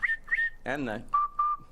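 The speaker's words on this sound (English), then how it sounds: "you get what I call the wah-wah, the chirp, and then the lip whistle" A person whistles through the lips, sounding two short chirps, then a wavering wah-wah tone, then two steady lower lip-whistle notes, close and clear with no talk.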